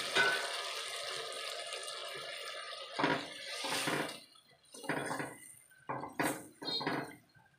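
Water pours into a thin Bengali bata fish curry in a pan, a steady rushing splash for about three seconds, followed by several short clinking and stirring bursts.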